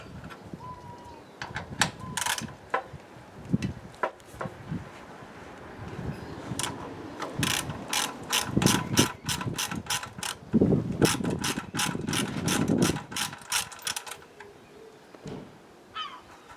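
A 12mm ring spanner works an exhaust nut on a Triumph Street Triple motorcycle, giving bursts of rapid ratcheting clicks and metallic knocks close by, with quiet gaps between the runs.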